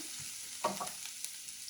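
Frying on a low flame for kadhi pakora gives a quiet, steady sizzle in a pan, with a few brief stirring clinks and scrapes near the start, and no voices.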